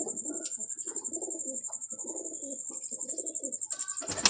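Hobby pigeons kept by a pigeon club coo in a steady series of soft, low, rolling phrases close by, with a faint high steady tone running behind them and a brief louder rustle at the end.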